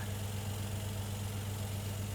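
A BMW E28 with a V8 engine idles steadily with a deep, even rumble, close by and alone without voices.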